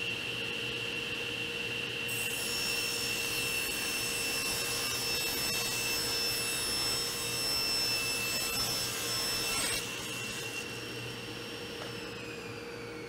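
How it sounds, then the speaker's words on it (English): A table saw spins up with a high whine and cuts steadily through a plywood shelf for several seconds, then the blade winds down with a falling tone near the end. "I'm going to take my shelf over to the table saw, cut it down, and make sure my edges are all clean"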